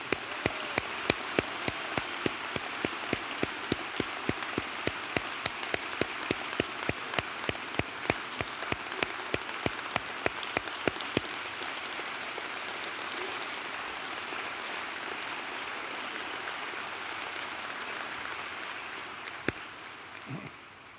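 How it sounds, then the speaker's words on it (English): An audience at a university address claps in sustained applause, dense and steady, with a few sharp louder claps standing out early before it gradually fades toward the end. "Let's give them another round of applause."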